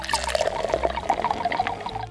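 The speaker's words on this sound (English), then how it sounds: "you're gonna pour some baby oil in there" Baby oil pours into a bottle in a continuous glugging stream of bubbly, rhythmic gurgles, close and fairly loud with no talking.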